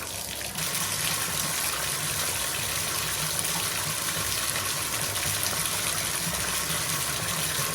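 Water gushing steadily through a leaking bathtub drain, a continuous full-band rush that holds at an even level from start to finish with no voices.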